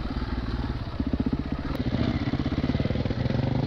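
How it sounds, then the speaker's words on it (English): An off-road motorcycle engine runs steadily at an outdoor quarry track, a close, continuous throbbing drone with a pulsing beat and no talking. "The bike's sounding really meaty today."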